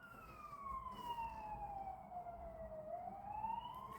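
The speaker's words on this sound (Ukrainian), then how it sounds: "Швидка їде." An ambulance siren in a village wails in a slow falling then rising sweep, fairly faint and somewhat distant, over a low background rumble.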